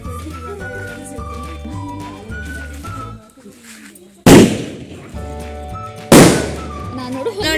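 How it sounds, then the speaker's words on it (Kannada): Firecrackers burst at a home celebration: two sharp, loud bangs a couple of seconds apart, each followed by a crackling tail, over background music and chatter. "ನಮ್ಮ ಪಪ್ಪ ಫುಲ್ ಪಟಾಕಿ ಹೊಡಿಯೋಕ್ಕೆ ಖುಷಿ ಹೋಗ್ತಾ ಇದ್ದಾರೆ"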